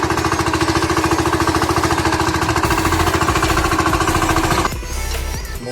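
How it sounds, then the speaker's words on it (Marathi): A tractor ploughing a farm field runs with a loud, rapid, steady engine knock close by, the pounding rhythm continuing unbroken before dropping slightly in level near the end. "आमचे दत्ता भाऊ ट्रॅक्टर घेऊन चालवत आहेत"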